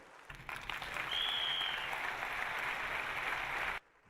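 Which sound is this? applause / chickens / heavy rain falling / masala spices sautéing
applause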